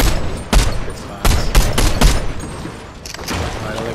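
Rapid gunfire in Fortnite: a series of sharp, loud shots fires in uneven bursts, some clustered close together, over busy game noise with no speech.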